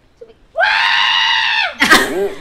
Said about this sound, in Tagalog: Sumigaw ko naman